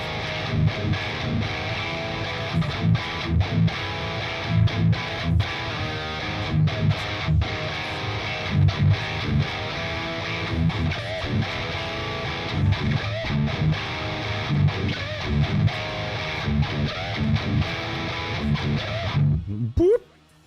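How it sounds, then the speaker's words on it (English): Electric guitar played through an Oracle Audio amp simulator, a thick heavily distorted tone with chugging rhythmic attacks and sustained chords running continuously before cutting off abruptly at the end. "This is one of the most muscular guitar tones I think I've ever heard."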